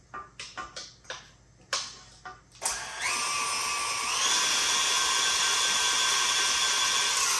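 A stand mixer whirs up to speed mixing pumpkin dark chocolate snack cake batter, a steady close motor hum that rises in pitch and holds, after a few short knocks and clatters.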